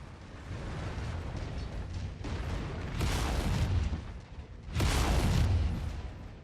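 Heavy rumbling explosions and crashing debris as a building complex is destroyed and collapses in MechWarrior 5, with repeated loud booming bursts swelling and fading over several seconds and no talk.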